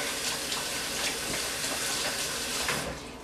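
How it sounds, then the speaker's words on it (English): A kitchen tap running in a steady close gush while hands are washed, continuous and fairly loud, tapering off at the very end. "Wash my hands real quick."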